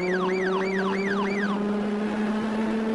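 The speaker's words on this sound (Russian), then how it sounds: "работает даже сирена" Several rapid up-and-down wails of a police siren sound from a VAZ-2101 Kopeyka militia car in BeamNG.drive, then the siren cuts off about halfway and only the steady engine hum carries on, with no speech.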